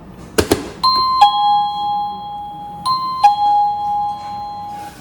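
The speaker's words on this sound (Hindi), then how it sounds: "तो सबसे पहले ये जो है वो डोरबेल का चाइम है" A smart home doorbell chime plugged into a socket chimes twice, each a two-tone ding-dong ringing out clearly after a short click, with a quiet pause between them.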